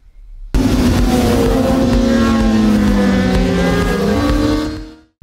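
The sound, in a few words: Honda CBR 600RR motorcycle racing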